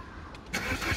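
A car engine cranks briefly with a rough, churning whir that stops without catching. No voices are heard.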